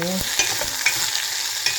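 Onions stirred in a frying pan of hot oil, spatula scrapes and knocks landing every half second or so over a steady sizzle, close and fairly loud, with no talking.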